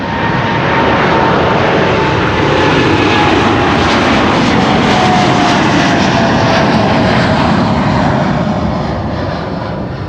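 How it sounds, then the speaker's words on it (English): A Boeing 787-9 Dreamliner, registration PH-BHD, roars loudly and steadily on its takeoff run from Schiphol's runway 24, a broad continuous engine blast with a faint whine running through it, alone with no voices. "787-9 Dreamliner on its way to St. Maarten"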